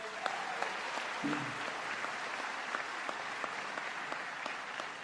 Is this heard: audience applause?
yes